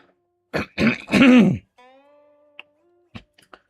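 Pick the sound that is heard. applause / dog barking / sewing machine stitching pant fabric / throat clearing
throat clearing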